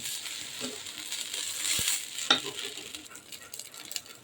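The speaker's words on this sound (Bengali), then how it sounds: "মাছ কষানো মশলার মধ্যেই শুধু চালটা ভেজে নিতেছি" Rice being fried in a thick, cooked-down hilsa fish spice masala for pilau gives a soft continuous sizzle with stirring scrapes and a sharp utensil clink, fairly quiet.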